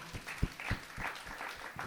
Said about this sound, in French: j'aimerais vraiment que les gens les applaudissent fort